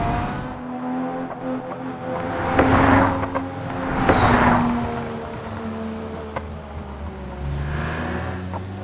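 A car in BeamNG.drive sweeps past with a rising and falling engine and tyre roar, swelling twice as it approaches and recedes against a steady background hum; no one speaks.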